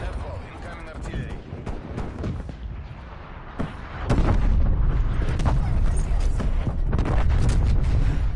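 Incoming artillery barrage in Call of Duty Cold War, heavy booming impacts and crackling blasts that swell into a continuous loud rumble, with some game voice audio mixed in.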